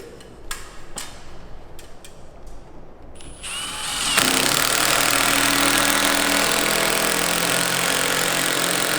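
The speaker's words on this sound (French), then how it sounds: "Ici, on vient mettre des vis de 160, comme c'est indiqué sur le plan, et on vient visser à quelques centimètres de longue." A power drill drives 160 mm screws into timber while a Menton model chalet is assembled. A few light clicks and taps come first, then a loud, sustained whirring drive starts near the middle and continues steadily to the end.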